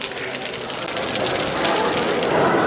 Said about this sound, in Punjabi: ਦੇਖੋ ਮੀਂਹ ਹਲੇ ਤੱਕ ਪਈ ਜਾਂਦਾ